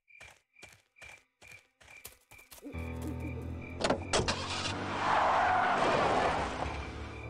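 In the Full Throttle video game, a few sharp clicks and steps give way to a car starting up and pulling away. A rough, roaring engine swells into a loud whooshing rush as the car drives off.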